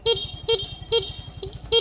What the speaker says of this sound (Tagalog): Ang cute ng horn guys.